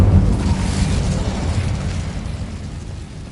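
A fire spell cast in Hogwarts Legacy bursts out as a loud, rumbling whoosh with a booming start, then sustains as a roaring, crackling flame that slowly fades over about three seconds, with no voices.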